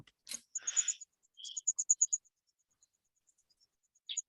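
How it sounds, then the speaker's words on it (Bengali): Crickets chirp at night in a short, quick run of evenly spaced high pulses, followed by a few faint scattered chirps against near silence. "জি ঝিঝি স্যার। পোকার ডাকে এটা।"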